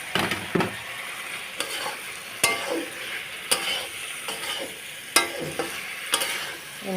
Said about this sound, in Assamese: তাৰপিছত মই সেই মছলাতে বেঙেনাখিনি মই ভাজি লৈছোঁ।